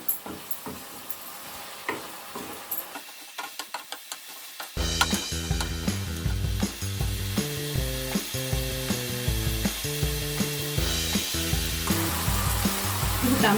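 Gobi curry stirred and frying in a pan, a rhythmic series of scraping spoon strokes over loud sizzling after a quieter opening.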